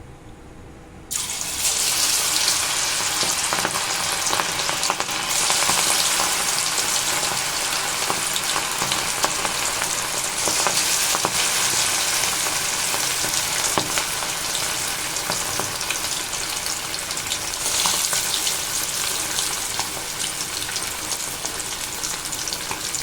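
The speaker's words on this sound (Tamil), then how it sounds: "எண்ணெய் நல்லா சூடாயிடுச்சுங்க இப்போ நம்ம மசாலா கலந்து வச்சுருக்கிற மீனை போட்டு பொறிச்சிக்கலாம்" Masala-marinated seer fish (vanjaram) pieces hit hot oil and fry with a loud, dense, steady sizzle that starts abruptly after a quiet second and continues close and unbroken with occasional pops.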